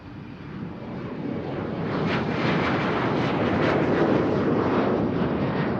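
A German Airways airliner on a sunny day at Amsterdam Schiphol gives off a steady, broad engine roar that swells louder after the first couple of seconds and holds, with some wind buffeting the microphone.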